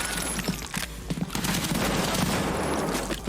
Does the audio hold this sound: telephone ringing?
no